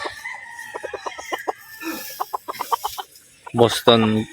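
Gamefowl stags at a game farm cluck in quick rhythmic bursts close by, followed by a loud rooster crow near the end, with faint background noise and no talking.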